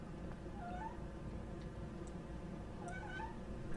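Cat meowing in the video game Life Is Strange: two short rising meows over a steady low background hum, moderately close, with no talking.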